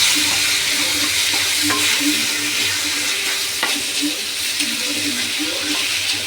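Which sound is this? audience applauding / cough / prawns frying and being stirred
prawns frying and being stirred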